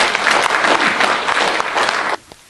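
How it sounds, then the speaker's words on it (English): A seminar audience in London claps steadily for about two seconds, a dense wash of applause that then stops abruptly, leaving near quiet. "can you give a clap to Zaki right before I go to the next one?"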